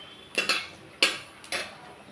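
Whole cardamom, cinnamon and cloves tempering in hot oil are stirred with a metal utensil, giving a few short, spaced clinks and scrapes against the pan, close and fairly quiet, with no voices.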